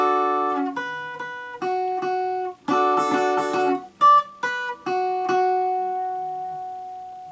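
An acoustic guitar plays a short chord section with clear plucked notes and strummed chords. Sustained tones alternate with quick bursts, and the last chord rings out and fades.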